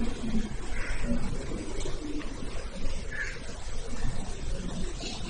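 A crow caws twice, a few seconds apart, over a constant broadband background noise.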